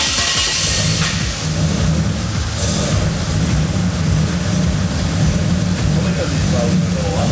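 The engine of a VL wagon fitted with a quad compound turbo setup runs loudly and continuously at close range, a dense deep drone with a faint whistling layer, while people talk over it.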